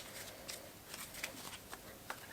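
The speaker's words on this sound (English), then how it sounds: "we'll put the 5 of hearts back in and shuffle." A deck of playing cards is shuffled nearby: quiet, soft riffling and flicking with several crisp snaps spaced irregularly across a couple of seconds, low in level.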